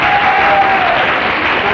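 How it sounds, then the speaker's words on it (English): A 1955 television game show studio audience applauding and cheering, a loud dense burst of clapping and crowd noise lasting under two seconds. "I can hear the guys cheering here"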